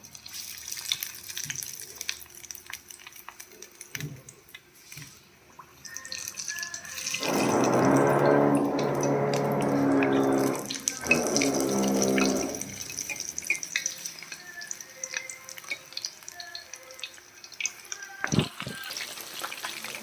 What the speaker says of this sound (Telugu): నూనె అలా వేడిగా మరిగిన తర్వాత బజ్జీలు ఇలా వేసుకోవాలి.